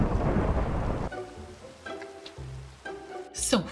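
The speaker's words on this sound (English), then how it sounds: "it's raining" Rain and thunder in the Minecraft video game: a dense hiss of rainfall at first, then broken game sounds with tonal blips and a sharp rumbling crack near the end.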